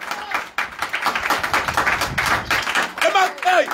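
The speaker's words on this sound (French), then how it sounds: "applaudissez nous" A handful of people clap in uneven bursts amid lively chatter, with several voices talking and exclaiming close by over the claps.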